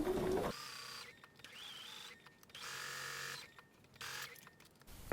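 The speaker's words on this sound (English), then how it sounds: "And just stitch in this seam." A sewing machine runs in several bursts while stitching a quilt block seam, its motor whirring steadily with short pauses between runs, close and clear with no talk.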